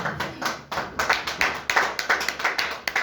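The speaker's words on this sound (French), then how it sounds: "On acclame pour la parole de Dieu." A church congregation claps in rhythm for about three seconds at Easter service, with quick, close, evenly spaced handclaps and no voices on top.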